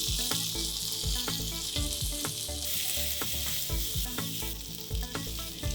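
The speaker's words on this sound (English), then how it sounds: "Saute these ingredients for a minute." Cauliflower, green peas and diced capsicum sauté with tomato paste in a pan, giving a steady loud sizzle with repeated scraping stir strokes throughout, no voices.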